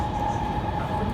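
A metro train runs at Ningbo Railway Station, a steady rumbling roll with a faint high whine, heard briefly from inside or close by.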